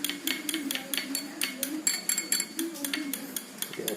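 A spoon clinks rhythmically against a glass while stirring honey into orange juice, a quick run of bright, close taps with a faint swirl underneath.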